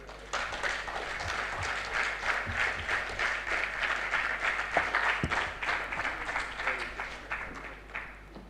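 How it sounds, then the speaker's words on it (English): Steady applause from an audience at an international symposium on organized crime, dense clapping that runs throughout with a low background hum, with occasional voices underneath. "I think that applause signifies"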